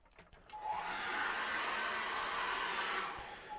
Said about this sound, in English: I'm going to dry that off with a hairdryer now.